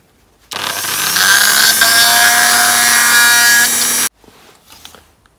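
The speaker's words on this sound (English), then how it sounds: "I've got a flat grinding wheel to just go around the edges of that light" A flat grinding wheel grinds around the edges of a light on a diecast Dinky Toys 288 Superior Rescuer, a loud steady whine for about three and a half seconds that stops abruptly, leaving faint handling noises.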